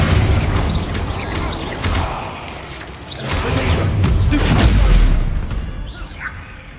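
The Flipendo spell in Hogwarts Legacy bursts out as a series of booming pops and crashes, loud and close, with no voice over the noise.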